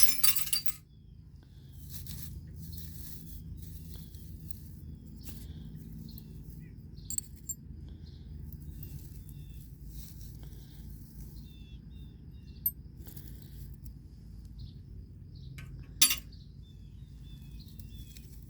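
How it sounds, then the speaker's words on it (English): Broken glass pieces being picked up, heard as sparse, faint clinks and tinkles scattered over a low background hum, with one sharper chink near the end. "I'm still picking up the glass."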